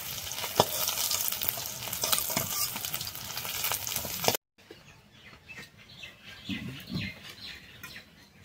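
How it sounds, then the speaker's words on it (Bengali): Pieces of shol fish crackle and sizzle in hot oil, up close and busy, then after a brief cut the frying turns quieter with birds chirping faintly in the background. "মাছগুলো ভাজা হয়ে গেছে, তুলে নেব।"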